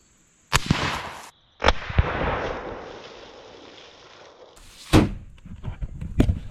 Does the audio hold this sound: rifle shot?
yes